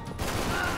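Dense burst of gunfire from the video game Max Payne 3, a short, loud, continuous crackle filling the whole moment with no distinct separate shots.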